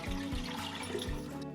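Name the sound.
water being poured in to make Ugadi neem water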